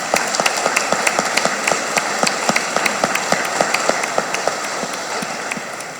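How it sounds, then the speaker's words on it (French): Applause from a church congregation at a Sainte-Anne feast-day Mass in Chicoutimi, honouring the moderator priest: dense, steady clapping filling the whole stretch with sharp individual claps standing out. "on peut aussi une bonne main d'applaudissements pour le prêtre modérateur"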